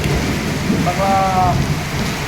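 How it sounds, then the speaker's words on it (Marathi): Heavy rain pours steadily on farmland, a dense continuous roar of drops, with someone speaking briefly over it. "बघा पाऊस भयंकर पाऊस आहे."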